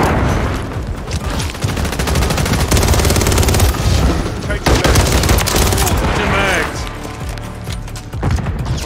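Dense gunfire in Call of Duty Modern Warfare 3, with rapid overlapping bursts and heavy impacts sustained loud and close throughout, a player shouting over the shooting at times.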